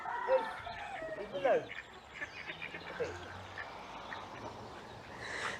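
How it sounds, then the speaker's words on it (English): Ducks and ducklings on a river in Launceston, Cornwall, give scattered quacks and chirps against faint outdoor background noise. "there's a load of ducks and ducklings"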